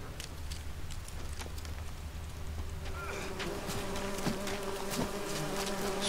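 Bees at a ruined griffin nest in The Witcher 3: Wild Hunt keep up a continuous buzzing drone, with faint crackling and scattered clicks mixed in and the level swelling slightly toward the end.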